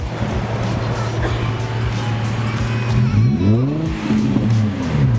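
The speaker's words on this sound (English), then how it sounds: "rev it for me one time" A loud, raw Infiniti G35 engine with the muffler deleted idles roughly, then revs up and drops back in a couple of throaty surges, close and with no voices.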